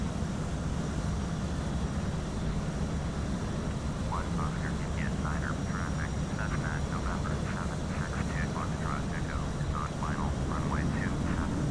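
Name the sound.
aircraft engine in Flight Simulator X video game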